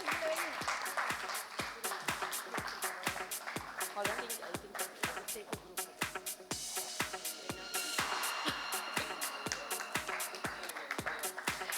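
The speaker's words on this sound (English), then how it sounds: "Everyone, please can we have a round of applause?" Audience at the inaugural session of the Fifth MHM India Summit 2025 claps in even, rhythmic beats, steady and fairly loud for about twelve seconds, swelling slightly near the end.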